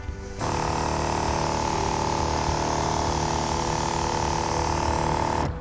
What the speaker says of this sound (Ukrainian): Подивимося, як розпилює ця форсунка. І на другій швидкості.